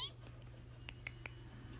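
A few short, faint meows from a cat in a quiet room, three soft cries spaced close together.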